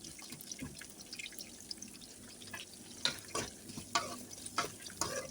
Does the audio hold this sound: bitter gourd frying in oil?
yes